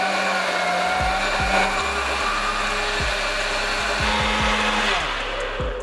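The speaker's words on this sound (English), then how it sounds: "Now you want to cover and blend this until nice and smooth." A blender whirs steadily as it purées chili hot sauce ingredients with white distilled vinegar, a loud continuous motor drone with the pitch dipping and recovering several times as the load shifts.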